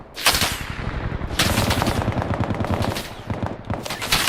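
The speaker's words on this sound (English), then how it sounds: "They haven't stopped firing. they're MGs" Machine guns fire nonstop in the video game Bellum, a loud, dense rattle of rapid shots that continues for the whole stretch.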